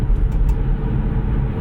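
Hyundai Kona Electric on winter tires driving at about minus one degree, a low steady road rumble and tire drone from inside the car, loud and continuous, with no one speaking.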